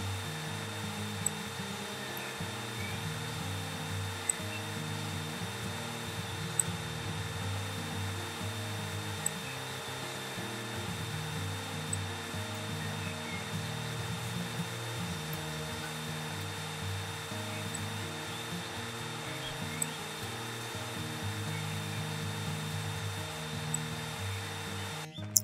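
Vacuum cleaner running on a floor in the Garage Flipper game, a steady motorized whine with a faint high tone and occasional small clicks, continuous and unchanging, no speech.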